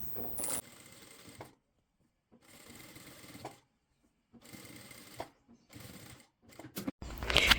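A sewing machine stitching a T-shirt collar in knit fabric, several short bursts of rapid stitching broken by silent gaps, with a sharp click near the end.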